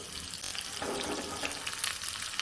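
Chopped chilies, cumin and curry leaves hitting hot oil in a pan, a close, loud, continuous crackling sizzle that flares up briefly partway through, with no voices.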